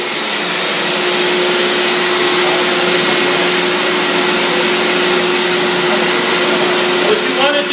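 A Namco high pressure tile and grout cleaning machine vacuums water off a floor, giving a loud, steady, unbroken suction roar with a constant whine that runs for several seconds without pause.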